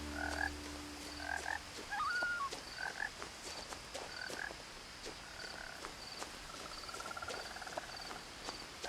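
Frogs croak in a chorus of short chirping calls through the whole stretch in the game What Remains of Edith Finch, with insects and crickets buzzing steadily underneath, fairly quiet and ambient.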